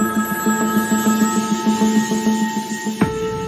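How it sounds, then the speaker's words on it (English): A telephone rings with repeated electronic trills in a steady rhythm, fairly close and clear, ending with a short knock near the end. "Suddenly, the phone rings again."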